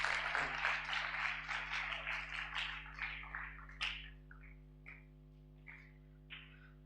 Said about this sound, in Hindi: सब अपने लिए अब ताली बजाइए एक बार